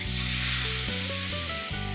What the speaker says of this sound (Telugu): ఇలా తాలింపు చేశాక ఎప్పుడైనా సరే నేను కొంచెం వాటర్ వేసేస్తాను